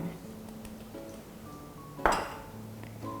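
A whisk works a cream cheese and icing sugar mixture in a bowl for a no-bake cheesecake, giving light metallic clinks and scrapes, then a sharper clatter about two-thirds through, fairly close with no talking.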